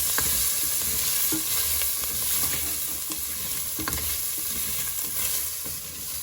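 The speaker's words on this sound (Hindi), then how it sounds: "So once the colour of your garlic changes and it cooks, add in your chicken." Chicken stir-fried with garlic in a pan, a steady close sizzle with light intermittent scraping of a spoon as the pieces are mixed, no voices.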